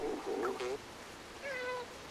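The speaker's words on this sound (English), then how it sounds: "Give you a nice meow for the poetry attempt." Cat in the video game Stray meowing twice, a rising plaintive call followed by a softer drawn-out meow, close and clear over a quiet background.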